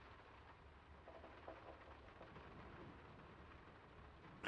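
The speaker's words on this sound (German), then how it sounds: "Gar nicht gemerkt, dass es eben am Regnen war." Faint, steady rain in the video game Draugen, a soft continuous hiss with low rumbling underneath, quiet and unbroken throughout.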